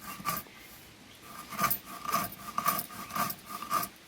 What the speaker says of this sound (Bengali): আমি শিলনোড়া দিয়ে গুঁড়ো করছি